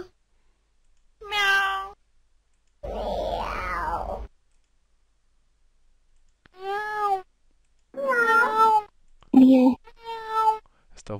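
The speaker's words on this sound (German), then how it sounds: "Ich tippe mal, dass das hier eine Katze ist." Several separate cat meows, drawn-out and nasal, arrive one after another with silent gaps between them, close and fairly clear.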